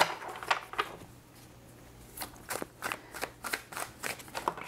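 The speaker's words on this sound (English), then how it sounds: "We're gonna pull some tarot cards and then some oracle cards." Tarot cards being shuffled and pulled from a deck, heard as a riffle early on, then a run of quick papery snaps and slides, close and crisp, with no talking.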